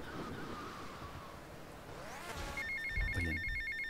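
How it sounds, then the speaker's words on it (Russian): A phone rings in the video game GTA Vice City, a bright electronic trill repeating near the end over a background of ocean-like wash and a passing vehicle. "ответь на телефонный звонок заодно"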